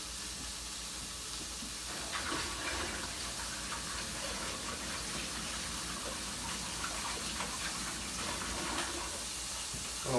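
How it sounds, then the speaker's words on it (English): Water runs steadily from a kitchen tap while hands are washed underneath, a continuous close rushing splash with no talking. "Wash my hands real quick."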